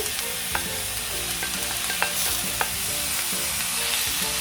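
Salmon fried rice with cabbage being stir-fried in a pan: a steady close sizzle with scraping and clattering from quick stirring, a few sharp utensil knocks against the pan, no talking.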